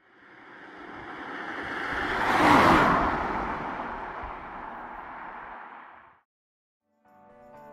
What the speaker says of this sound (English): Was it hard to hear the car?